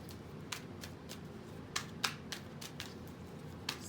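Tarot cards being shuffled, giving a string of crisp papery riffles and snaps spaced irregularly through a quiet room, close and fairly soft, with no talking.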